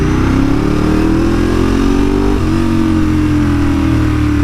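Motorcycle engine loud and close throughout, accelerating hard while ridden quickly, steady rising revs with a brief dip near the middle and no talk over it.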